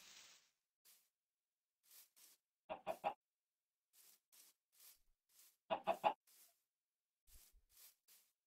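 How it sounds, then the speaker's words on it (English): Chickens clucking in Minecraft with the FTB modpack, short quiet clucks spaced apart, with two louder triple-cluck bursts, faint and alone without talk. "I hear chickens, but I can't see them."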